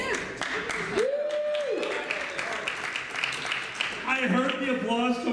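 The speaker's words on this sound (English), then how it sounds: "I heard the applause coming over there." A crowd at a live show during a furry convention, Anthrocon 2018, bursts into a dense patter of applause off to one side, heard beneath talking and laughter nearby.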